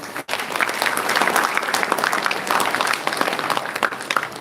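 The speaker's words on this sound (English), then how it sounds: "Clap for your teachers." A large audience at a college inaugural ceremony breaks into applause for teachers, a sustained, loud, dense wash of clapping in a hall after a brief pause at the start.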